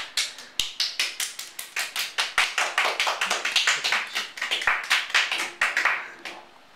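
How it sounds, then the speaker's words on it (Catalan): A school class applauding, a burst of fairly quick claps from a small group that swells and then fades out at the end. "Aplaudiu."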